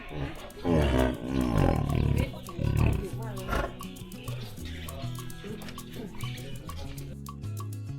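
A thin male white tiger, thirteen years old and under treatment, growls and roars in its cage at a zoo in Suphan Buri, with loud bursts early on and rumbling that continues under people talking nearby.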